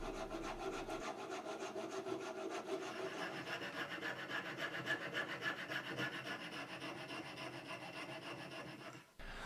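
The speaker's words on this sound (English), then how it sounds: "I'm just getting rid of the excess material with a rasp" A rasp files excess material off a fishing lure made of hardened hot glue. Steady back-and-forth rasping runs close and continuous for several seconds, then cuts off abruptly near the end.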